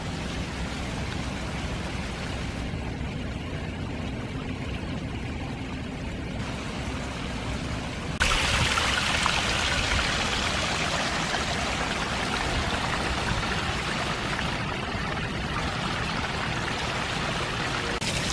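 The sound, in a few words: small waterfall flowing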